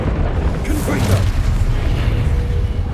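Fiery Confringo spell blast in Hogwarts Legacy, a dense rumbling boom with crackling burst that fills the whole clip, loud and close, over continuous game ambience.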